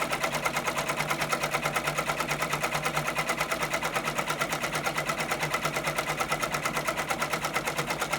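A multi-needle embroidery machine stitches out a design for an embroidered shirt, giving a fast, steady mechanical chatter with an even rapid pulse, close and continuous throughout.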